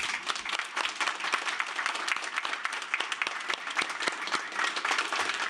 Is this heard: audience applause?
yes